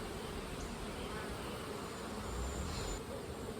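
Honey bees buzz on an open hive frame in a steady, dense drone that stays close and continuous throughout, with no voices.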